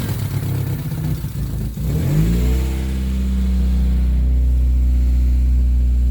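A Mazda MX-3 with a swapped-in BP engine catches and settles into a steady loud idle, with a brief rev as it starts, burning off oil.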